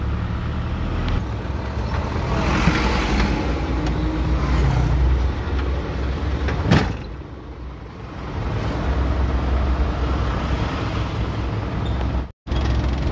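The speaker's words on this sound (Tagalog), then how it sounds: "Traffic talaga guys dito dahil gawa ng may laro dito sa may Rizal Stadium." Heavy road traffic near Rizal Stadium during a game, with parked cars crowding the street: a constant loud rumble of passing engines, one brief louder vehicle swell, and a sudden cut near the end.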